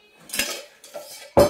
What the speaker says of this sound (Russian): сейчас беру кастрюлю.